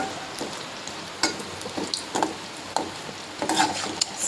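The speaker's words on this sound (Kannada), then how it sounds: "ಈಗ ನಾ ಫ್ರೈ ಮಾಡ್ತೀನಿ ಬಜ್ಜಿ" Bajji fritters fry in hot oil with a soft, steady crackle and sizzle, and a few sharper pops and stirring scrapes stand out now and then.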